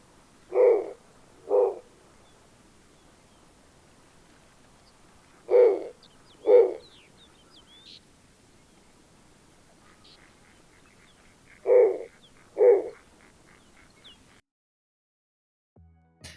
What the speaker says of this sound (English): we gotta listen to Snowy Owl. Hoot hoot hoo hoo call.